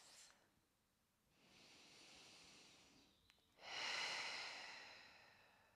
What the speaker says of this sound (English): We're gonna end with some final slow breaths together.